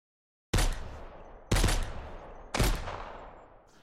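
Three loud, close hunting-rifle shots from the survival video game Mist Survival, fired about one second apart, each a sharp blast with a long echoing tail.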